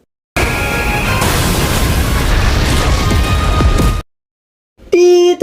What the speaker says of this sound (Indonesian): di tengah ledakan beruntun yang diakibatkan dari combo skill monster itu